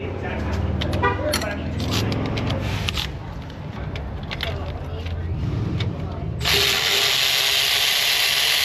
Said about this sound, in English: Once it's broken loose, we'll use our electric ratchet.